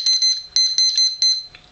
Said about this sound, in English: I'm gonna set the timer this time so I don't go over my time.